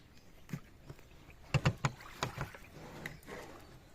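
A small rowboat moving across a pond full of water lilies, with scattered soft paddle splashes and knocks, a few sharper strokes clustered near the middle, fairly faint and close.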